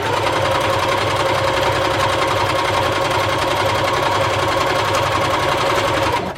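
Sewing machine chain piecing quilt pieces, running at a fast, steady mechanical rattle, close and continuous, until it stops at the very end.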